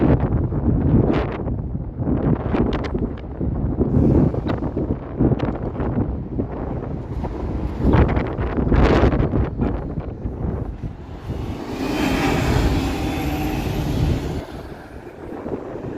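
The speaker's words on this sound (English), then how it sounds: "Holy windy." Strong wind buffets the microphone in heavy, uneven gusts on a semi-industrial street in Toronto in late May, with a broad rushing roar rising toward the end.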